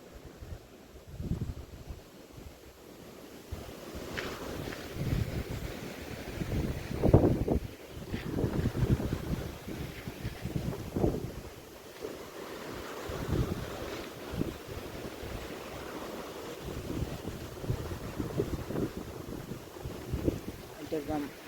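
Cold wind gusting across an open farm field as rain approaches, a steady rushing buffet with low rumbling microphone gusts rising and falling, with a voice speaking at times.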